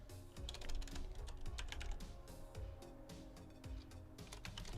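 Rapid, steady clatter of typing on a computer keyboard during coding work, dense irregular key clicks close up, fairly quiet, with no speech.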